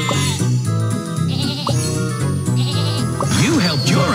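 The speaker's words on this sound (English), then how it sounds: "Some sheep have wandered off from the farm." Sheep bleating in a Thomas and Friends children's video game, a series of cartoonish bleats over cheerful game music and chimes.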